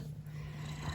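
A cat purrs steadily and close by in a home, a continuous low rumbling drone with no talk over it.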